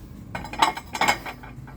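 Ceramic serving plates, including square Christmas-themed ones, handled and knocked together, giving a few light clinks and clatters close by, with no speech.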